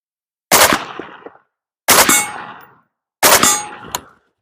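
Three loud gunshots on a range from a gun fitted with a Gideon 1X prism optic, evenly spaced and close, each a sharp crack with a brief ringing tail, with no talk.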